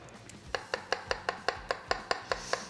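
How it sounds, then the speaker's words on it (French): Finely chopping garlic with a knife on a cutting board for veal chop à la japonaise: about a dozen crisp, evenly spaced taps in a steady quick rhythm, close and fairly quiet, with no voices. "Là, ciseler finement l'ail."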